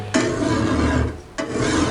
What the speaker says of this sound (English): So I'm just choosing to file about halfway there and about halfway here.